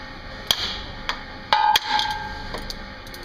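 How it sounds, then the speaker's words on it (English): A hammer knocks a damaged stud out of a Barber Surf Rake, giving sharp metallic strikes at irregular intervals, a few single blows and a quick ringing pair, close and clear with no talk. "Done by hitting with a hammer."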